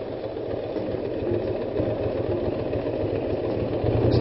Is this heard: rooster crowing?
no